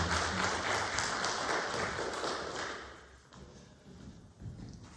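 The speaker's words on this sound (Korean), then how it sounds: "우리 다시 한번 우리 큰 박수로 감사드립니다" Clapping from a church congregation at a Sunday worship service, a moderate wash of applause that fades toward the end into a few scattered claps, fairly quiet overall.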